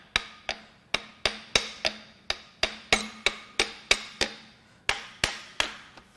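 A hammer taps on a 2010+ Toyota Prius 1.8L 2ZR-FXE engine during a teardown: about seventeen sharp, close metallic knocks in a steady, even rhythm, with nothing else heard.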